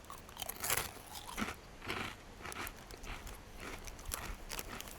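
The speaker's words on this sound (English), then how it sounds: "So I decided I'll open my crisps as a starter." Crisps eaten outdoors beside a grill with coals, close crunchy bites followed by repeated chewing in uneven bursts, with no talk.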